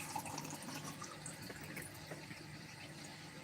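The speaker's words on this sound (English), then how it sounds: "The act of pouring it will mix it for us." Liquid pours steadily into a container for mixing a 1-to-20 dilution measured out with a small cup, a continuous close watery splash and trickle with no talk.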